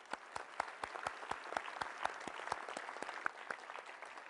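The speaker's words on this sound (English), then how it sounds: "let's give them all a round of applause" Audience applause at a NASA event unveiling a lunar spacesuit, a steady room-filling wash of claps with distinct sharp hand strikes, loud and continuous with no talking.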